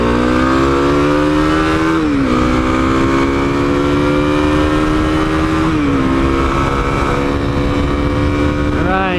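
A 2021 Kawasaki KLX300 motorcycle accelerates hard onto a freeway, its engine whine climbing through each gear with brief dips at the shifts, loud and close over wind noise.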